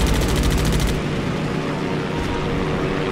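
Rapid gunfire from a WWII aircraft in the video game Damage Inc. Pacific Squadron rattles in a fast burst for about a second, then gives way to a steady engine drone.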